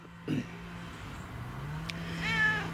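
A cat meows near the camera outdoors by a garden shed, one short call late in the clip after a soft thump, with a low engine drone and a passing car in the background.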